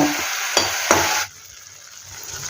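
Onion chili paste fries in hot oil with a steady loud sizzle, broken by two scraping stirs of a spoon in the pan, then the hiss drops abruptly to a faint simmer.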